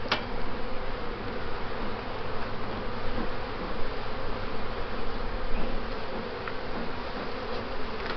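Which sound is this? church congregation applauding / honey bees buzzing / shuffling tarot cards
honey bees buzzing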